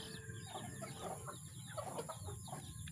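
A flock of backyard chickens clucks at feeding time, a continuous, faint chorus of overlapping clucks and chatter with no single bird standing out.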